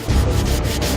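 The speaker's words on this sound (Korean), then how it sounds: "물로 닦아가며 사포질을 해야 한다" Old hanok timber being sanded by hand with sandpaper, wetted with water between passes, giving a loud, close, continuous abrasive rubbing with a few brief stroke changes.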